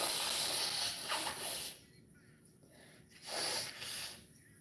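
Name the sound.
person blowing their nose with a head cold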